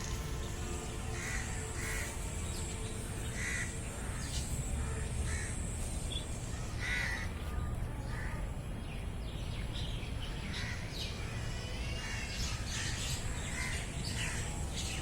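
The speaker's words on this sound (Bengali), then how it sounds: "আপনার কি পাখির ডাক শুনতে পাচ্ছেন?" Crows caw repeatedly outdoors amid other birds calling and chirping, the harsh calls coming at a middle distance in irregular bursts over a constant low background hum, with no talk.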